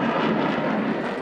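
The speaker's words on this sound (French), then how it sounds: "Et enfin, j'ai pu fendre le ciel dans un Rafale." A Dassault Rafale fighter jet in flight gives a loud, steady broadband engine roar that fills the whole short span without a break.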